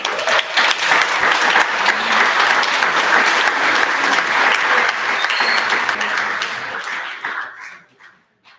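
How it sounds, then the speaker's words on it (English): Audience applause at a parade press conference, a full steady wash of clapping from a crowd lasting several seconds before tapering off to silence, with a dog barking faintly amid it. "Sean Love, give her a big round of applause, everybody."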